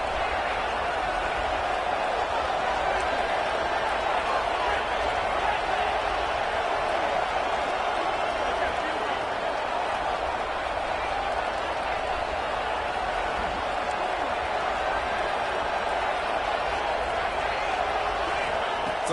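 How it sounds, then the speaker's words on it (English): A stadium crowd roars steadily at a Florida versus Cal college football game, a dense, unbroken wash of noise with no pauses across the whole stretch. "listen to this crowd noise. This stadium is vibrating."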